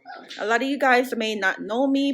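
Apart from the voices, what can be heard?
Shih Tzu dog barking in the background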